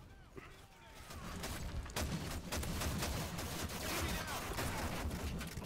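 Gunfire in Modern Warfare 3 during an Infected match, dense overlapping shots and booms forming a steady loud barrage with scattered sharp cracks, and a voice talking over it.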